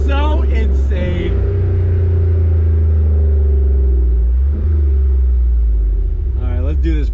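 The 2021 Jeep Wrangler Rubicon 392 sits close by with a deep, loud engine drone, rising and falling as it revs, with a few sharp pops and bangs on the throttle.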